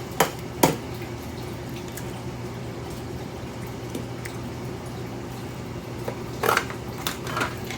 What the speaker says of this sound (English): Crack an egg.